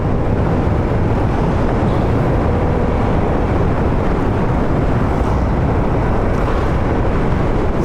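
A Vespa VXL 150 scooter cruising down a secondary highway, its engine drone blended with heavy wind rush as a steady, loud, unbroken roar throughout, with no speech.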